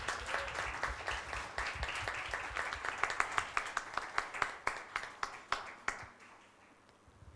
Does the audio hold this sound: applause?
yes